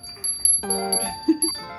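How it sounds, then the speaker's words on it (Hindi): A small bell rings indoors with a few bright metallic strikes that sustain a clear ringing tone and then fade, with a softer extra tap near the end; no talking is audible. "घंटी बजा दो, घंटी ton ton ton ton ton ton"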